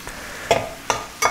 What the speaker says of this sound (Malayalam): അത് നമ്മൾ ഇട്ട് കൊടുക്കുക അതിലേക്ക്. എന്നിട്ട് ഇതൊന്ന് ഇളക്കി കൊടുക്കുക.